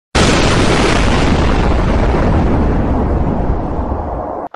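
A grenade explodes in a Star Wars film scene: one loud, close blast that starts abruptly and rolls on as a broad rumbling roar, slowly thinning out over about four seconds before cutting off.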